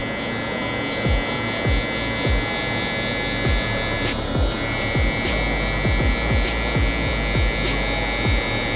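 An electric shaver buzzes steadily and loudly at close range while cutting a fade haircut, with a constant motor hum and repeated scratchy strokes as it passes over hair.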